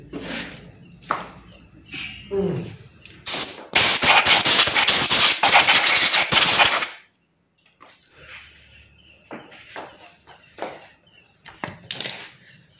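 A welded front sprocket shaft on a motorcycle is sprayed in a steady hissing burst lasting about three seconds, surrounded by scattered tapping and handling noises in a workshop.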